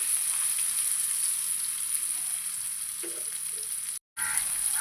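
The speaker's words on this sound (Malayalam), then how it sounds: "സവാള നല്ല ബ്രൗൺ നിറമാകുന്നത് വരെ നമുക്കൊന്ന് വഴറ്റിയെടുക്കാം." Sliced onion and curry leaves sauté in a pan with a steady, close sizzle and a faint stir partway through, then the sound cuts out briefly near the end.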